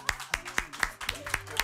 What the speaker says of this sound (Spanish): otro aplauso le vamos a brindar a estos bebés preciosos